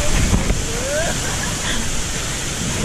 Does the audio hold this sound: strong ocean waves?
yes